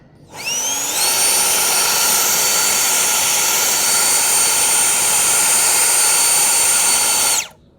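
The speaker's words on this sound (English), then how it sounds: "It was blowing the couch cover." A 20V cordless leaf blower spins up and roars steadily for about six seconds with a rising whine before cutting off, loud and close, blowing a couch cover, no talking.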